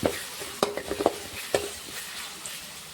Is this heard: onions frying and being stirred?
yes